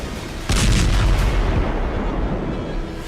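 Missile strike explosions hit the city of Dnipro: after a brief quiet lead-in, a sudden loud blast erupts, followed by a rumbling, crackling roar that slowly fades.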